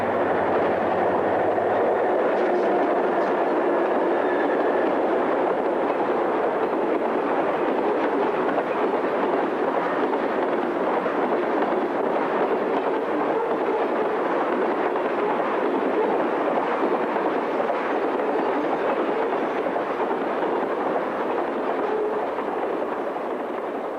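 EMD GP40, GP40-2 and GE U23B diesel locomotives haul an eastbound freight along the Southern Tier west of Susquehanna, a loud sustained rumble of engines and rolling wagons steady throughout, with faint rail clatter and no voices.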